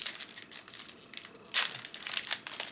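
Foil wrappers of Yu-Gi-Oh Extreme Victory booster packs crinkle up close as several packs are grabbed and handled, in quick, uneven bursts with a louder rustle near the middle.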